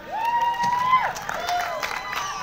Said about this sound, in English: So huge round of applause for